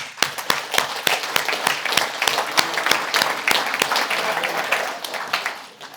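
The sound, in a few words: audience applause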